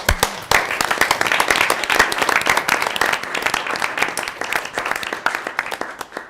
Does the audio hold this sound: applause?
yes